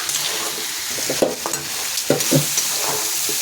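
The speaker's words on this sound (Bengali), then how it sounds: "কষাবো ভালো করে। কাঁকড়াটা এখন দিয়ে" Crab stir-fried in a wok, a steady sizzle broken by several scraping stirs and clatters of the pan, close and fairly loud, with no talk.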